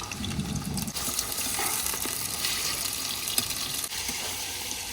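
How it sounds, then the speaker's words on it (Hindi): Chicken frying in oil in a karahi for Shinwari chicken karahi, a soft, steady sizzle and crackle with faint stirring, close and quiet, with no talking. "जब तक हमारा गोश्त फ्राई होता है जी"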